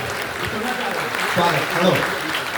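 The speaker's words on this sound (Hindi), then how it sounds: "अच्छा लग रहा है तो ताली बजा दीजिए" An audience claps at a Hindi-language talk, a dense, even patter of applause running throughout while a speaker's voice carries over it.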